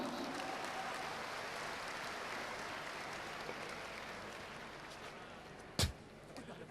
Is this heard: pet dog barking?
no